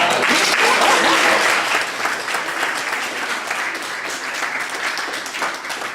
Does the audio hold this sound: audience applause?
yes